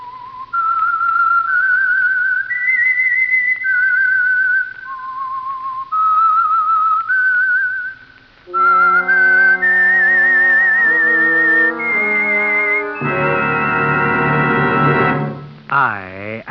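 The clear, melodic whistled theme of the old-time radio drama The Whistler rises and falls in steady phrases, then gives way to sustained orchestral chords swelling loudly near the end.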